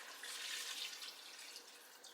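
Water pours steadily into a cooking pot over meat with tomato paste and spices while making kebsa, a continuous close rushing splash of about two seconds with no talking.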